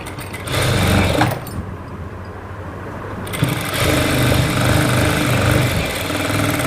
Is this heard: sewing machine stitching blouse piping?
yes